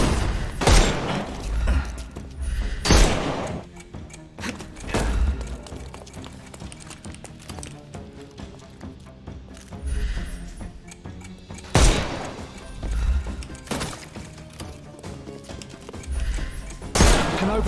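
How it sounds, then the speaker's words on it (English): Gunfire aimed at the player in the video game Sherlock Holmes Chapter One: heavy shots and booms land in loud bursts every few seconds over a dense, busy game soundscape. "You just freaking keep shooting me."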